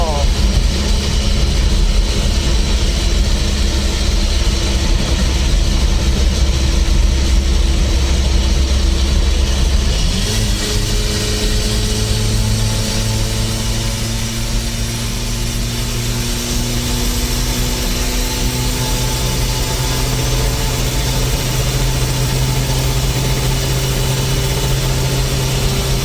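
A 1959 Ford F100 pickup with a swapped 1.9L VW diesel and an 88mm turbo drones loudly from inside the cab while driving at low rpm; the engine note shifts about ten seconds in and rises steadily as the truck pulls.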